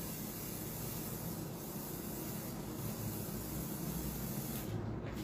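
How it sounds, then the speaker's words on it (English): A spray gun hisses in a steady, continuous stream while the hand holding it keeps moving. The sound is soft and even throughout, with no voices. "before you start spraying, keep moving."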